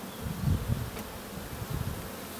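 Honeybees buzzing close by at a hive, a low droning hum that swells and fades with a few louder passes, no voices.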